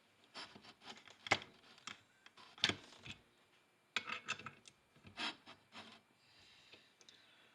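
A torque wrench tightening clutch bolts on a 2017 Polaris RZR 570 LE primary drive clutch, a series of close, short ratcheting rasps and clicks separated by brief pauses.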